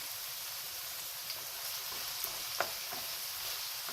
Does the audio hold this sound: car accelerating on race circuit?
no